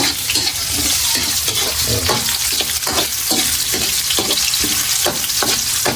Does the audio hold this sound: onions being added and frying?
yes